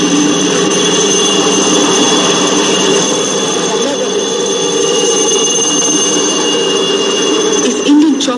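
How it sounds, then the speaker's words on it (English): Helicopters flying over the Tololing Ridge carrying supplies, a loud continuous engine and rotor roar with a steady turbine whine that holds throughout at constant intensity. "Choppers can fly freely today over the Tololing Ridge, carrying crucial supplies to the men stationed on top."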